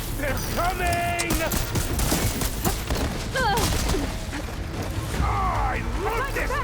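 Heavy cannon blasts and booming gunfire in Horizon Forbidden West: Burning Shores, loud and continuous, with shouted voices and chaotic battle noise layered over them.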